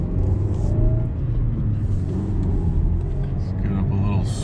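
A 2018 Mazda 3 picks up speed at low pace, its engine a steady, close rumble with a rising hum and road noise underneath.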